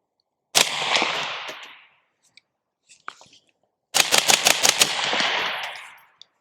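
Suppressed 5.56 rifle fired with a Rhino X suppressor outdoors: one loud shot with a long decaying tail, a pause with faint handling clicks, then a rapid string of about six shots ringing out together.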